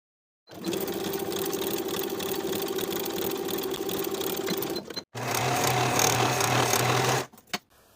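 A sewing machine stitches blouse shoulder seams in two steady, loud runs separated by a brief pause, with a whirring motor and rapid needle chatter, close up and with no voice.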